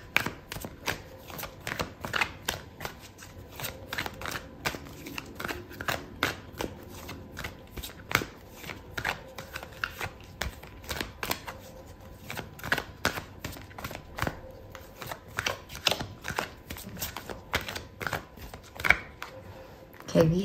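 Tarot cards being shuffled by hand, a long run of quick riffling flicks and soft slaps close up, irregular bursts continuing throughout with no speech over them.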